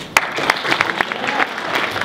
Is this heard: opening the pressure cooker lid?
no